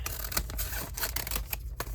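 Scissors snip through a paper bag in a quick series of close, crisp cuts with faint rustling between them.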